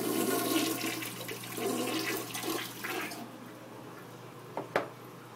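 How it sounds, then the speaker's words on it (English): A toilet flushes with a loud rush of swirling water that gradually subsides into a quieter trickle as the tank refills, followed by a couple of soft clunks. "flush the toilet"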